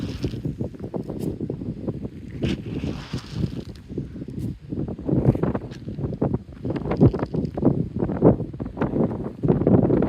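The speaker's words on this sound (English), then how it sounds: "The wind's blowing." Cold wind gusts across an outdoor spot near water, a steady rushing buffet with rustling and microphone rumble that swells and eases throughout, with no one speaking.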